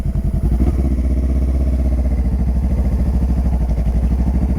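A motorcycle engine idles with a steady low throb, then the revs pick up as the bike pulls away in first gear during slow-speed practice maneuvers, loud and close with a rhythmic thumping pulse throughout.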